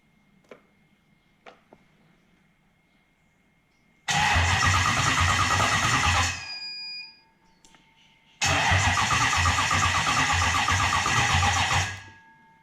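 A car engine with a Link ECU cranks on a flat, low battery in two long bursts, each a loud, dense whirring churn lasting a couple of seconds before cutting off, with faint clicks in the quiet beforehand.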